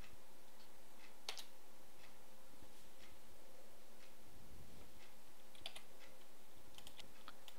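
Keystrokes on a computer keyboard as a command is typed on a Windows 7 PC, coming in scattered quick taps and short bursts, quiet and fairly close, with a low steady hum underneath and no talking.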